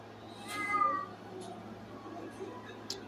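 A big black cat meows loudly near the start, with a drawn-out tonal cry, followed by softer murmuring vocal sounds and a couple of short chirps in a quiet room.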